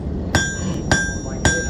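Three ringing hammer blows on hot steel while a tomahawk is being forged, evenly spaced about half a second apart, each a sharp, close metallic clang with a bright sustained ring.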